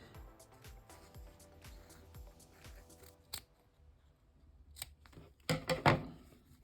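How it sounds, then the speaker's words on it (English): Scissors snip ribbon for candy apple bows with a run of soft, steady, close cuts. A pause follows, then several louder, crisper snips near the end, with no talking. "it's up to you how you want to cut your ribbon"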